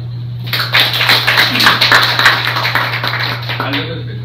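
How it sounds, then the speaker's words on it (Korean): Audience applause at a seminar on the social role of art, a dense burst of many clapping hands that swells in and holds for about three seconds before ending abruptly, over a steady low electrical hum. "큰 박수 부탁드립니다"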